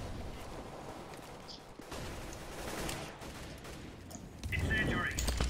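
Gunfire in Counter-Strike: Global Offensive, with bursts and scattered shots crackling through a continuous game soundscape at moderate loudness, louder toward the end, while players talk over it.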